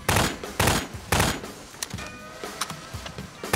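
Gunfire in a Garry's Mod round at a resort pool: three loud bursts of shots in quick succession up front, followed by scattered quieter pops and impacts.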